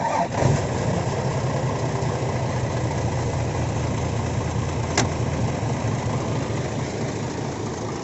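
An Isuzu Deca 195 truck's engine cranks and catches, then settles into a steady, even idle that runs on loud and close, with one brief sharp knock partway through.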